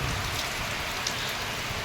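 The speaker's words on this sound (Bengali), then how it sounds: "বৃষ্টি পড়ে টাপুর টুপুর" Steady, dense rain falling, a continuous close hiss of drops with no pauses and no voices.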